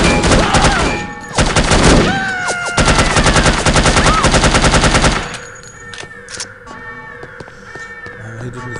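Rapid automatic gunfire rattles loudly in bursts in the No One Lives Forever video game, with a clipped voice briefly heard, then the shooting stops and quieter game ambience with faint tones remains.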